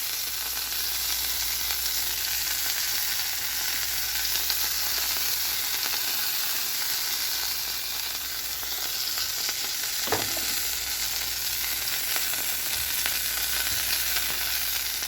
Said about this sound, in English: as this butter gets melted and translucent, add in some chipotle roasted garlic